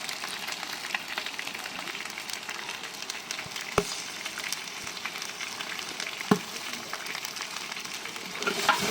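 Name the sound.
stirring frying food with turmeric and salt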